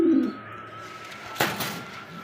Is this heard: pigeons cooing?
yes